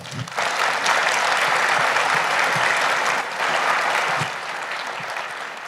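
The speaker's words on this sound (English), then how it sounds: "Let's give them all a round of applause." A crowd at a graduation ceremony breaks into sustained applause, loud and continuous clapping from many hands that swells quickly and holds before easing slightly near the end.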